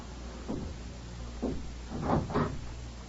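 A door opening and closing as a radio drama sound effect, heard as several close wooden knocks and a latch-like scrape in a quiet room, with no voices.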